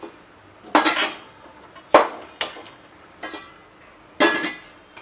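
Handling of a metal kitchen pan for making potato poha: several sharp clanks and scrapes, near and fairly loud, spaced irregularly with short pauses between them and no talking.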